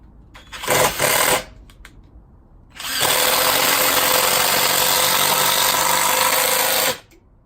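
A Teccpo 20V cordless impact driver fitted with DeWalt bits drives a screw. A short buzzing burst comes first, then a loud, steady hammering whir that lasts about four seconds before it cuts off.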